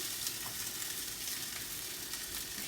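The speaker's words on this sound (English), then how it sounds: "go ahead and throw that into your preheated pan" Slices of egg-coated bread fry in a preheated pan on a griddle at medium-low heat, producing a faint, even sizzle with light crackles and no voices.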